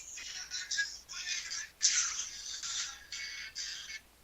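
A phone sounds a run of repeated bright electronic tones in short bursts, a ringtone or notification pattern, fairly soft and alone with no talk over it.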